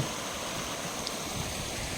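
A river flows past a Khodiyar temple near Matalpar village, making a steady, continuous rushing of water that stays even throughout.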